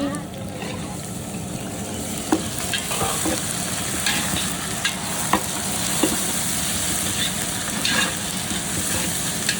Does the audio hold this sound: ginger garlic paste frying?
yes